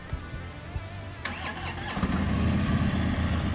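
A 2015 Harley-Davidson motorcycle engine is cranked and fires up, catching around a second in and settling into a loud, rumbling idle that builds and holds close by.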